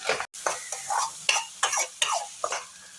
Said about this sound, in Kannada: ಒಂದು ಮೀಡಿಯಮ್ ಗಾತ್ರದ ಈರುಳ್ಳಿ ಸಣ್ಣ ಕಟ್ ಮಾಡಿ ಹಾಕ್ತಾ ಇದ್ದೇನೆ